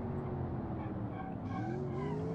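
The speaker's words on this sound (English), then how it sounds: "Like, I'm gonna slam on the brakes now." A school bus without ABS brakes hard in the BeamNG.drive game, a steady tire squeal and skid drone over a low engine rumble, continuous and fairly loud for the whole stretch.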